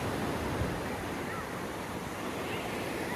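Ocean surf at a packed, warm beach fills the scene with a continuous loud wash of breaking waves and wind rumble, with no clear pauses.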